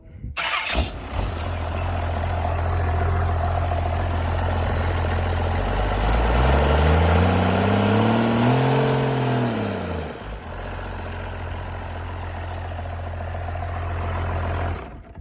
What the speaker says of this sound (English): Got my snap-on starter bypass thing, and it fires right up.